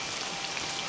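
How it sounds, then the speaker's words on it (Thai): Rain falls steadily in a rural village, a dense even hiss of drops hitting surfaces, constant and moderately loud over a short moment with no voices. "ฝนก็ตก"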